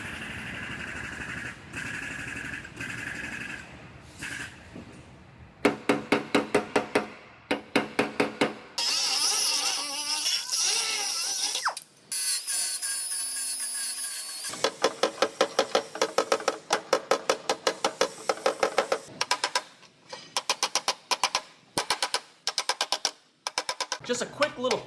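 A body hammer strikes sheet metal on Jeep bodywork, making many sharp, ringing metallic taps in fast rhythmic bursts, close and loud, with pauses and some low background hum between the series.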